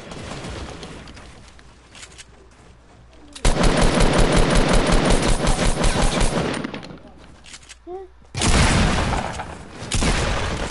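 Gunfire in an online battle-royale video game shootout: long rapid bursts of automatic fire, loud and close, with pauses between volleys and players talking over it.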